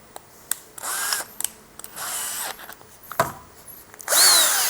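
A Tekiro CD-HD2047 12V cordless hammer drill whirs in several bursts, pausing between runs, with a final louder, higher-pitched spin at the end.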